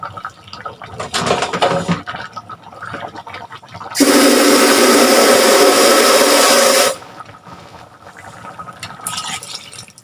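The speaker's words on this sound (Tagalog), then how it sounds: "Para natuyuan, dagdagan ko muna ng tubig kunti." Water gushes from a container into a pot of simmering rice porridge (lugaw) in one loud, close pour of about three seconds, with quieter kitchen sounds before and after.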